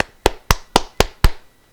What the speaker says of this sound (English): And I applaud you.